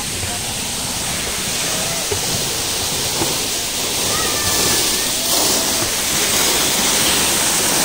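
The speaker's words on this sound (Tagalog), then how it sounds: "Ang ganda ng falls niyo." Ragatan Falls in Maragondon pours as a steady, loud, broadband roar of rushing water that fills the whole scene without pause, with faint voices now and then in the background.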